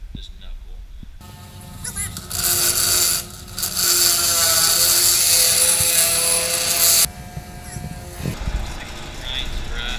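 Angle grinder working a steel steering knuckle during an EZ Knuckles V2 install, a loud sustained whine from about 2 to 7 seconds with a short break, set between quieter shop noise and people talking.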